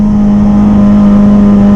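A Kawasaki ZX25R motorcycle fitted with a Leovin exhaust holds a loud, steady rev close by, a smooth buzzing drone with no speech.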